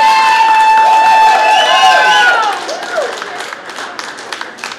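Studio audience cheering and clapping for a $70,000 big spin winner, loud and close at first with whoops, then thinning into scattered claps and chatter.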